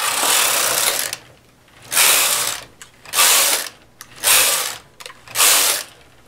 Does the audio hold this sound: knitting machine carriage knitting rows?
yes